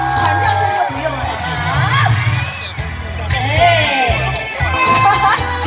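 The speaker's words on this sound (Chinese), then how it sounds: "我现在只认尖叫声、欢呼声" A crowd at a Lantern Festival show in Beigang shouts, screams and cheers in loud swelling bursts, mixed with an amplified voice from the stage.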